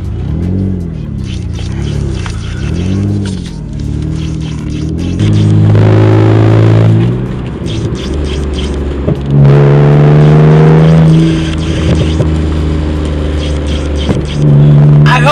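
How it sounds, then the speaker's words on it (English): A loud, raspy BMW E46 engine with open headers revs repeatedly, rising and falling in pitch with a deep, rumbling exhaust roar throughout. "I am also running open headers, so it is super loud in here."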